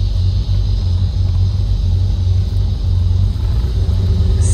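A 1979 Ford Ranchero with a three-speed transmission cruises along, a steady low engine rumble that stays even and close as it shifts into second gear, with no talking.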